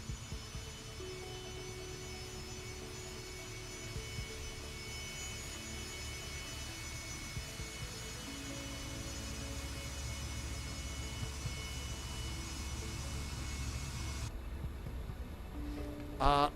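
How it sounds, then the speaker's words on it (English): Steady jet engine drone from an airliner in a flight simulator game, an Air Berlin livery on a Fokker F100 or Boeing 737, holding a broad constant roar with faint tonal hum, shifting slightly near the end. "Little bit of power here. Keep it going, airplane."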